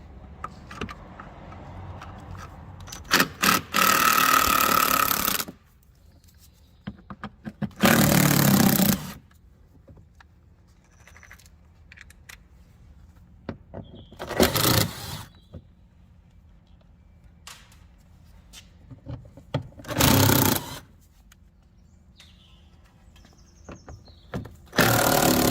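A power tool spins out T25 Torx screws from the front wheel arch liner of a 2013-2019 SEAT Leon Mk3, in four loud, close whirring bursts of a few seconds each with quiet gaps between.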